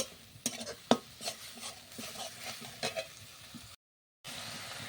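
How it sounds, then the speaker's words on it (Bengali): Onion and garlic fry in a pan, with scattered light clinks and scrapes of stirring over a faint sizzle, quiet and close, cut by a brief silent gap near the end. "পেঁয়াজ আর রসুনটা ভালো করে ভেজে নিতে হবে"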